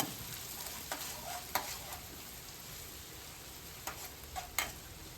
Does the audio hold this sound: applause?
no